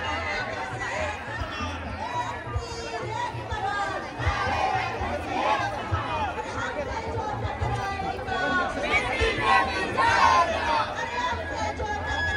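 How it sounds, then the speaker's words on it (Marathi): A large crowd at a tribal reservation protest march in Palghar fills the air with constant overlapping chatter and scattered shouts, a busy murmur of many voices that swells and stays close throughout. "खूप गर्दी आहे इथे."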